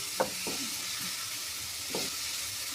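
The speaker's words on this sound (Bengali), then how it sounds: "এইটা যখন একটু ভাজা ভাজা হয়ে আসবে" Bottle gourd peel stir-fried in a pan gives a quiet, even sizzle broken by a few distinct scraping strokes of the spatula, close up with no talking.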